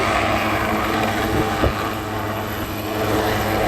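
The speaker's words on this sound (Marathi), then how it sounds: "हेलिकॉप्टर त्या खडकाळ ठिकाणी उतरत होतं" Rescue helicopter landing on a rocky riverbed in a flooded river at Malegaon, a steady loud rotor and engine roar filling the whole stretch, close and continuous.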